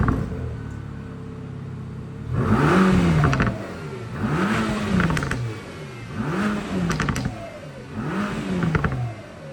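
Mercedes-AMG GT Black Series on its stock exhaust revved in four loud, close bursts, each rising then falling back to a low idle burble, with brief crackles at the tail of some revs.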